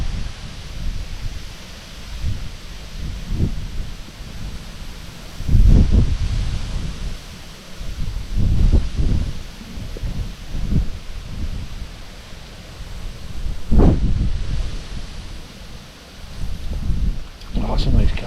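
Strong wind buffets the open coast during sea fishing on England's east coast, roaring in gusts with deep low rumbles against the microphone, loud and continuous, with occasional faint human sounds beneath.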